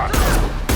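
An impact shot ability firing in Mass Effect, one short, loud burst of weapon fire with a second blast just after, heard up close with no talk.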